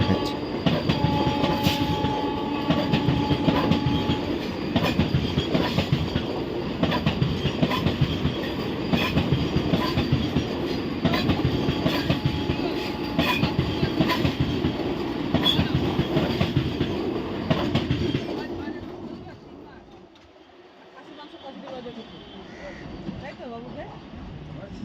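A Howrah–Puri superfast express passenger train rumbles along the rails with rhythmic clickety-clack for most of the stretch, loud and close, then fades to quieter rolling noise near the end.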